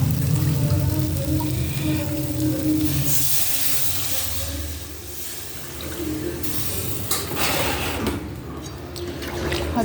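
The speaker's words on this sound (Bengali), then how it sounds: "এবার আমি জল দিয়ে দেবো।" Water poured into a pan of frying chhana dalna, paneer curry with potatoes, sets off a loud, steady hiss and sizzle that runs throughout, with bubbling bursts near the end.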